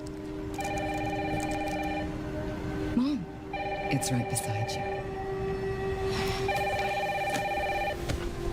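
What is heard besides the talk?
telephone ringing in a horror video game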